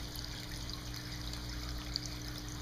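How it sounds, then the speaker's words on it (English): Water trickles steadily through a cup-to-cup cascade tabletop fountain in an oval dish with live plants, a soft continuous dribble heard close and alone. "Notice the water has a nice meandering, slow movement to it."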